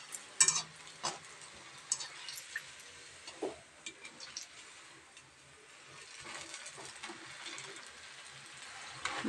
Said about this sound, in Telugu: కొంచెం హైలో పెట్టుకొని ఫ్రై చేసుకోవాలి